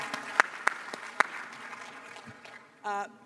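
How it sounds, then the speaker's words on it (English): Audience at a COP28 World Climate Action Summit panel on climate finance clapping for six panelists, a few scattered sparse claps rather than full applause, with a short burst of other sound near the end. "Big round of applause for our 6 panelists"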